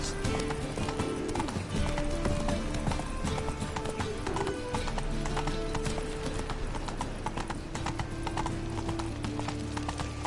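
Horse hooves clip-clop at a steady trot in The Witcher 3, with a continuous rhythmic beat over dense game music and ambience, and a brief whinny.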